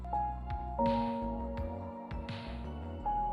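AI-generated instrumental documentary music with sustained tones over a pulsing beat and bright percussive accents, cinematic and steady, with no voices.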